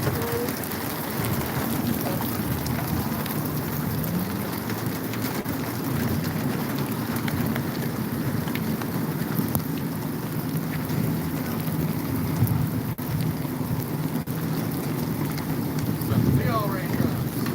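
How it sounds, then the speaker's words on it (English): Steady rain falling outdoors, a continuous hiss of drops on surfaces lasting throughout, with voices talking now and then over it. "More rain."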